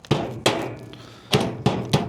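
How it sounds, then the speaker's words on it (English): Four sharp hammer blows ring out on a flat bed trailer during a modification, each strike loud and close with a brief metallic decay, unevenly spaced. "Hammer."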